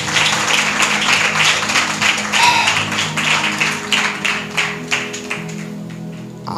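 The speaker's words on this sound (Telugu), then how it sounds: "దేవుడికి గట్టిగా చప్పట్లు కొడదాం" Church congregation clapping loudly during a sermon, a dense burst of many hands that holds strongly and then tapers slightly toward the end.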